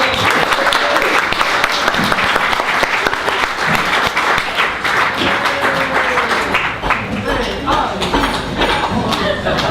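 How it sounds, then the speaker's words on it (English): An audience at a literary reading event claps steadily throughout, a dense and loud round of applause with a few faint voices mixed in underneath. "Let's give her a hand of applause."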